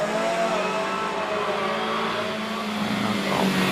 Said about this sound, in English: There is the yellow machine with the black hardtop, 1950cc engine